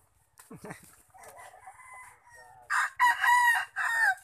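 Gamecock rooster crowing, a few loud crows following soft clucks and rustling, close to the listener, in a rural backyard.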